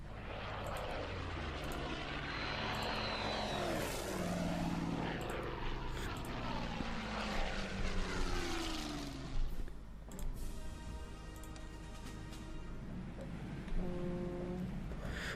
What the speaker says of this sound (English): And let's send the airplanes a bit to the center now.